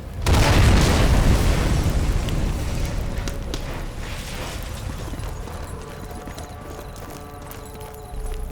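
In the Sniper Elite 4 video game, a loud explosion destroys a gun, bursting suddenly near the start and rumbling into a long, slowly fading roar with scattered debris-like noises.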